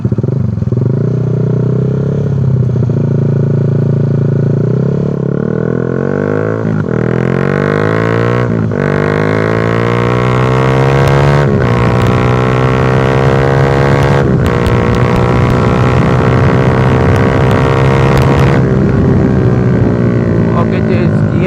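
A Honda Sonic 150R motorcycle with an SC Project exhaust revs hard and accelerates at high RPM, with loud rising and falling engine sweeps and gear changes close to the microphone, continuous throughout.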